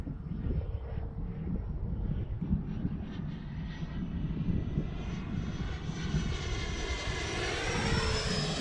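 An XFly Sirius radio-control jet's engine whines steadily overhead at about half throttle, a loud continuous roar with a rising high-pitched tone as it passes, no voices.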